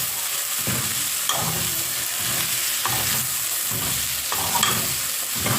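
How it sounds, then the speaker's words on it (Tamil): Keema masala stirred and fried in a pan for samosa filling, a steady sizzle under repeated scraping strokes of the spoon at a roughly one-second rhythm, close and continuous with no talk. "நல்லா கிளட்டிடுங்க."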